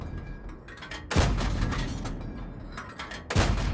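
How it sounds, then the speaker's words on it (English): Two heavy booming shots from a Covenanter tank's gun in a tank battle game, spaced a couple of seconds apart, each a loud blast with a rumbling tail. "you fire a lot of shots into this bush"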